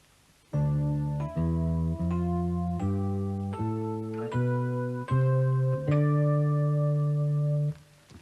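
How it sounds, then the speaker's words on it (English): D Dorian mode scale played note by note, about eight clear sustained tones stepping up evenly with the last held longest, moderately quiet and without voices. "the Dorian mode is simply like playing a major scale,"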